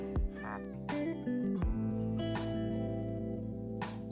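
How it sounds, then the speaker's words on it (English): Several cat meows from a Siamese cat in the Minecraft video game, with game music underneath and separate calls spread across the moment. "Heard a kitty."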